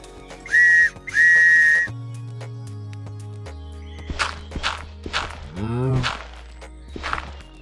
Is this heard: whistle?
yes